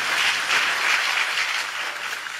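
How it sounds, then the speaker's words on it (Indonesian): Audience applause at a church sermon gathering, a steady dense wash of clapping that stays loud and even for the full stretch with no voices on top. "Kasih tepuk tangan buat Antonio."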